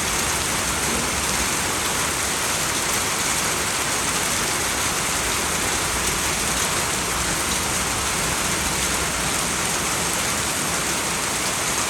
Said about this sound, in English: it's pouring with rain in the national park